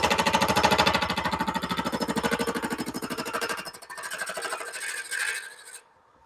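Small gouge cutting wood on a lathe, a loud rapid chattering rasp that bounces against an off-center piece, then thins to a lighter scraping before stopping.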